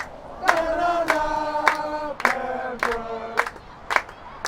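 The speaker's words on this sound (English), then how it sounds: "Crowd coming alive again, trying to will on its side in the second half" Fans at a women's college soccer match, UNCP against Flagler, chant in unison in short rhythmic bursts, a group of voices rising and breaking off roughly every half second, fairly close and clear.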